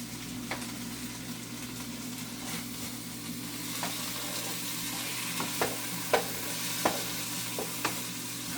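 Food sizzles steadily in a pan on the stove, with a few sharp clicks of a utensil stirring against the pan, close and moderately quiet, with no talking.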